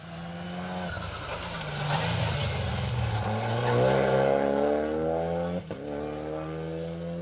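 A Renault Clio rally car approaches and passes on an asphalt rally stage at Rally Ceredigion 2023, with a rising, revving engine whine that swells and fades, heard from the roadside with some background noise.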